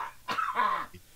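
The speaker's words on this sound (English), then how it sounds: "That was a quick cough." A single quick cough, close and fairly loud, a sharp burst followed by a short rasping tail, with no talking over it.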